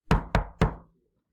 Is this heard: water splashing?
no